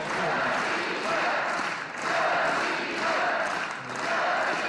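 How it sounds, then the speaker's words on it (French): A large crowd at a Russian political rally chants and cheers the names of Medvedev and Putin, rising in rhythmic swells roughly every two seconds, with a voice talking over it. "Je suis heureux que la foule ovationne les noms de Medvedev et Poutine"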